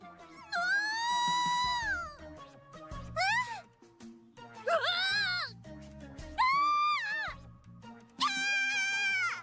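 Uma Musume horse-girl character screams from the video game, a run of high-pitched, wavering squeals and shrieks in separate bursts, loud and close, with short gaps between them.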